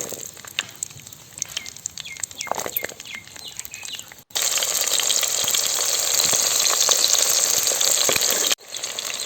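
Peeled shallots drop into hot oil with fennel seeds in a Kongu-style chicken curry, giving a loud, steady sizzle that jumps up midway after quieter stirring clatter, then cuts off briefly near the end.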